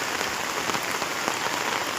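Steady rain pours down close by, a dense even hiss of drops striking a surface, with no voices and no pauses.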